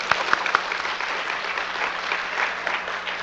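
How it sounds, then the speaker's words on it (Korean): A church congregation claps together at a revival service, a steady, dense wash of applause sustained throughout with a few sharper claps near the start. "여러분 박수 한번 쳐봐요."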